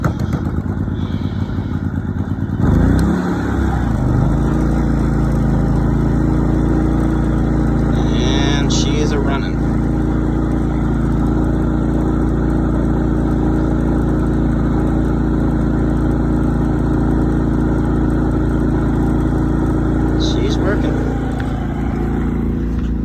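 A Predator 3500 generator runs with a loud, steady engine drone that carries on throughout, with a few clatters and knocks near the start and a voice over it now and then.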